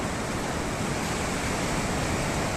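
Powerful sea waves break on a fishing shore in a continuous, loud, even roar of surf with no pauses and no talking.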